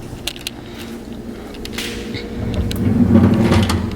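A kitchen drawer slides open with a soft rolling scrape and a light knock, close by and alone, then a brief rustle of handling follows.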